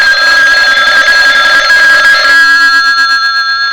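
A telephone rings loud and alone in an old-time radio detective drama, a steady electric bell trill that stops partway through, leaving a faint lingering tone.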